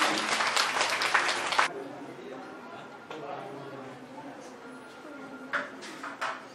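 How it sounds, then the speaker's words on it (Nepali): Audience clapping at a school children's club speech competition, a burst of applause at the start that dies away, then scattered claps returning near the end, heard in a room with some background voices. "ताली बजाइदिनु अनुरोध गर्दछु।"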